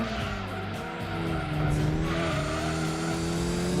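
A Mitsubishi in the Gran Turismo 2 racing game slides sideways, its engine droning with shifting pitch under a sustained tire squeal that grows louder partway through, with no voices.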